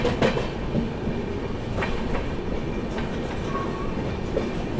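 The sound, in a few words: Duronto Express train running through junction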